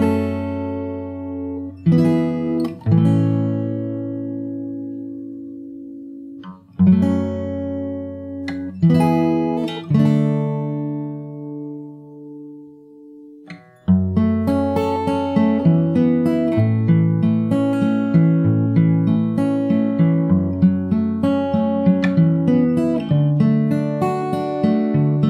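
Fingerstyle acoustic guitar plays the intro of a song. Sparse plucked chords ring out and decay in separate phrases, then a steady, denser picked pattern follows, close and clear, with no voices.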